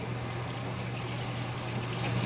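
A Maytag Bravos or Whirlpool Cabrio top-load washing machine fills with water during a 5D error: a steady rushing hiss with a low mechanical hum, constant and fairly close, with no talk.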